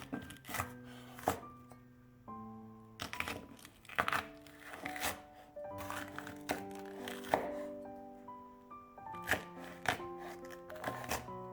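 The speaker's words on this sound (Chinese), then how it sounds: "然后再将青椒切成细长条" A knife cuts seeded green peppers into long thin strips on a board, with quick, evenly spaced chops heard close up over steady background music.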